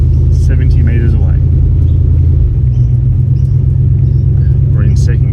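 An LS-powered Ford wagon climbs a hill in second gear, its engine droning loud and steady up close, while people talk over it.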